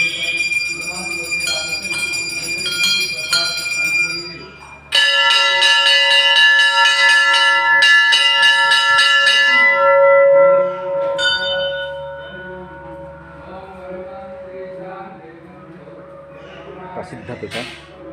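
Temple bells ring loudly at the Panchama Ganesh temple in Odisha during Ganesh Chaturthi, with bright metallic strikes whose tones hang and slowly decay, a fresh strike midway renewing the ringing.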